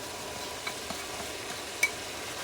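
Red peppers fry with turkey mince in a pan, giving a soft, steady sizzle with a few light stirring clicks and one sharper tap.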